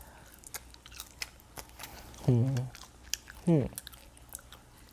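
Two short bursts of crunchy chewing on air-fried french fries with quiet pauses between, close to the mic, over a faint background murmur.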